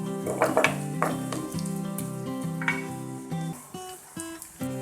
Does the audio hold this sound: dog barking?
no